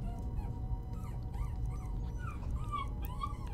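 Dog whimpering in Skyrim, a steady run of high, wavering whines and short yips over a constant low game ambience, close and continuous.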